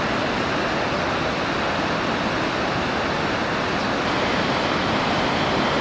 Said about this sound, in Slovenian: Divja modro-zelena voda v tej soteski.